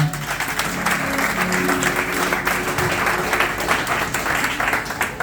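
A church congregation claps and cheers for the Lord, dense and sustained applause with a steady tone sounding underneath throughout.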